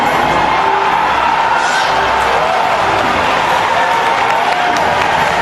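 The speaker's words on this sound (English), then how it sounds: "this is probably the biggest crowd reaction I've ever seen at E3, straight up." A huge crowd at Nintendo's E3 2004 press event cheers and applauds in a continuous loud roar. Shouts and whoops rise out of the dense, steady din.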